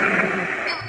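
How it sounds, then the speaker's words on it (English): Steady broadband white-noise hiss with faint crackle and a reverberant wash from an ITC spirit box, continuous and fairly loud throughout. "I got white noise and reverb right now."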